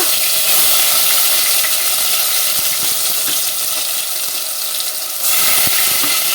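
Fenugreek seeds, cumin and ground masala sizzle loudly and steadily in hot oil, a dense continuous hiss with no one talking.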